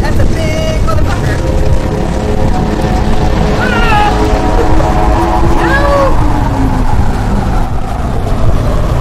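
A car drives in the horror video game They Are Here, its engine droning loudly and steadily with rising and falling whining tones, and a voice is faintly present.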